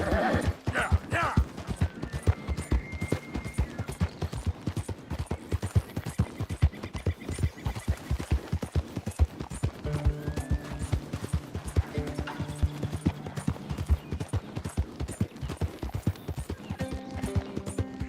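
Horse hooves clip-clop steadily in Red Dead Redemption 2, a brisk regular beat of close hoof strikes running throughout, with a whinny near the start and low game sounds underneath.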